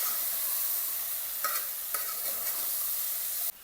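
Potatoes, tomatoes and soybean chunks with turmeric and salt being sautéed and stirred in a pan, a steady close hiss of frying with a few soft scrapes of the spoon.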